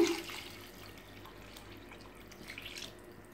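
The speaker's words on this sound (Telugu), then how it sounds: "దీంట్లో నేను వాటర్ యాడ్ చేస్తున్నాను." Water is poured into a pot of rice and lentils for sambar rice. A faint, close trickle and splash lasts a few seconds, with no talk.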